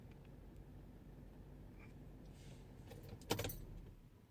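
A quiet car engine hum idles before a brief, close jangle of keys near the end as the car is switched off, after which the rumble fades away.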